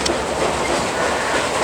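An Alaska Railroad passenger train runs along the tracks between Anchorage and Seward, giving a brief, steady, close rumble and rolling wheel clatter with no voices.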